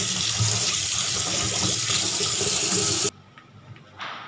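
Tap water runs steadily into a sink while a crab is washed, a loud continuous splashing stream that cuts off abruptly near the end, leaving faint handling noises.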